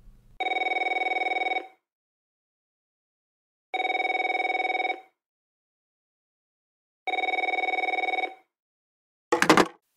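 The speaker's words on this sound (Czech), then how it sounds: "Celkem klidnou službu naruší zvonění telefonu." A telephone rings in three long, evenly spaced bursts in a quiet room at a Czech public security office, followed by a brief clatter as the call is picked up; no one speaks.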